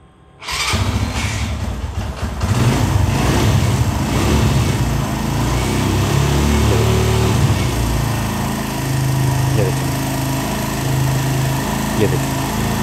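A Suzuki GS 150 SE motorcycle with a misfiring problem starts up abruptly and then idles loud and close, a steady, slightly uneven putter with voices talking over it.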